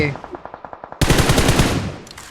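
Video game gunfire in a 3v3 match: a quick rhythmic run of single shots, then a loud, dense automatic burst like a machine gun, up close and dominant.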